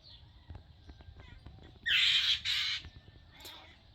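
Outdoors, a bird gives two loud, harsh squawks in quick succession while a cat watches, then a fainter third call follows against quiet background noise.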